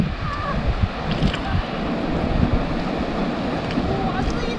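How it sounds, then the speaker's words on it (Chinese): Water from a coastal fish farm pours out through an opened sluice gate in a loud, continuous rushing roar, buffeted by wind noise on the microphone. "它那边今天在开闸门，水哗啦啦的往外流，好急呀"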